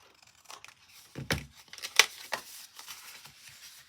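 Scissors snip a small paper square in a few separate cuts, with crisp paper crinkling between them, close and fairly quiet.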